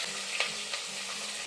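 Onions, tomatoes, green chilies and chicken sizzle in a pan for biryani, with a couple of quick stirring scrapes over a steady, fairly quiet hiss up close.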